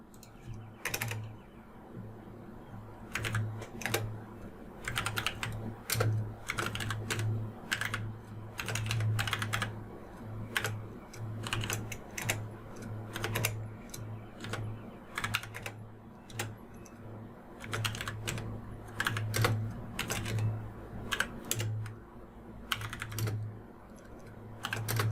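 Code being typed on a computer keyboard while scripting a Unity3D game, a steady run of quick, close keystrokes with brief pauses, alone with no talking and a low hum beneath.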